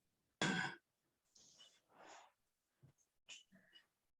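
Breaths taken during a guided breathing exercise: one sharp, loud exhale followed by several softer, airy inhales and exhales, close up and uneven, with no talking.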